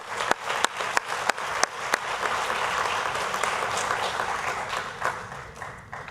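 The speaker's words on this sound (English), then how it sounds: "Let's give all of our athletes a nice round of applause for their excellence." An audience applauds athletes at the Varsity O awards ceremony, with steady, full applause for six seconds and a few sharp, close individual claps standing out near the start.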